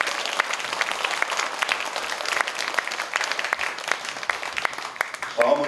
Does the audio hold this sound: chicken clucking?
no